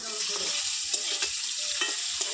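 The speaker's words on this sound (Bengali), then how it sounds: "মাছগুলো ভাজা হোক এক পিঠ, আবার উল্টে দেবো।" Pieces of rohu fish fry in hot oil in a wok, giving a dense, bright sizzle. Soft spatters and light stirring scrapes break through it close up, and no voices are heard.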